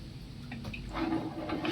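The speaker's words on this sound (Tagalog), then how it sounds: "Mga 3 tasa ang nilagay kong sabaw guys" Broth poured into a pot of sautéed bottle gourd with sardines and glass noodles, a soft liquid splash and fill that grows louder midway and runs steadily to the end, with no talk.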